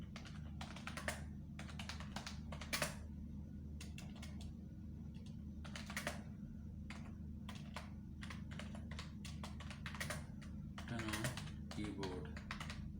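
Computer keyboard typing during an AutoCAD lesson, bursts of close key clicks with short pauses over a low steady hum, and faint speech now and then.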